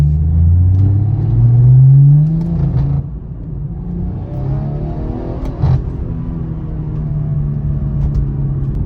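A B58 car engine hums steadily at moderate revs under about 20% throttle, rising smoothly in pitch as it accelerates, with road rumble underneath.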